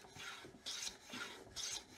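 A hand plane takes full-length, shallow cuts along the radiused edges of a handmade wooden mallet head, giving a close, steady rasping swish on each of about four rhythmic strokes with no talking.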